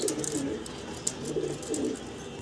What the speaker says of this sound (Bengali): দেখেন কি বিশাল সাইজের টপ কোয়ালিটির এক জোড়া শৌকিং কবুতর